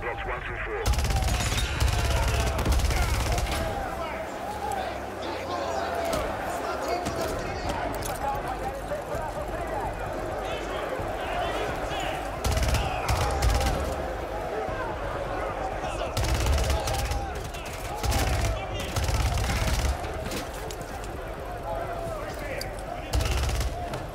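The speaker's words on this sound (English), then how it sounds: "This gun sounds cool." Rapid gunfire from a Call of Duty: Modern Warfare 3 trailer, with bursts of automatic fire and heavy booms recurring through a loud action mix, and people talking over it much of the time.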